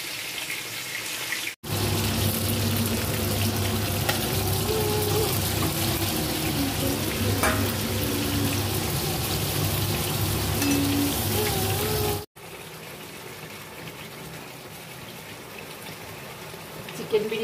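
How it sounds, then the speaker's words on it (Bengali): Chicken kosha cooking in a pan for a home chicken biryani and kosha meal, giving a steady broadband sizzle and clatter with a low hum, with a brief break, then a quieter stretch. "আর একটু চিকেন কষা হচ্ছে।"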